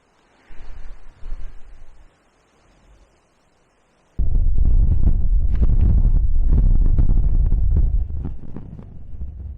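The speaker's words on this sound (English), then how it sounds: "blinking windy up here" Gusty wind on a headland on Anglesey, North Wales, buffets the microphone in short bursts, then roars loud and continuous in a low rumbling blast.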